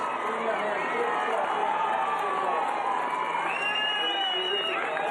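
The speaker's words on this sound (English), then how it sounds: "you can hear the cries of the crowd" A large crowd at the Commonwealth Games cheers and shouts continuously as a women's race finishes, a loud, sustained roar with some high whistles and cries rising near the end.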